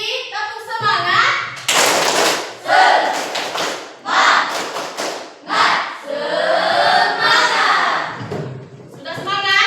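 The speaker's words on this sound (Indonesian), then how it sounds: "Satu kali lagi, tepuk semangat." A classroom of children performs the tepuk semangat clapping chant again, rhythmic bursts of claps and shouted chanting from the group, loud and close, with a teacher's voice at the start and end.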